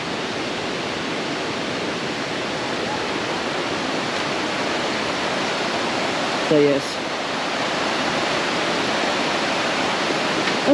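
Mae Ya waterfall in Chiang Mai, a constant broadband roar of rushing water filling the whole stretch, with a brief spoken phrase near the middle.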